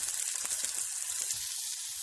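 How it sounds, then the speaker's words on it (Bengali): Spices such as chopped garlic, ginger, cumin, turmeric and chilli powder frying in oil for a potato and pea chop filling, producing a soft, steady sizzle with faint stirring taps, brief and fairly quiet. "এই মশলাটা একটু ভেজে নেব"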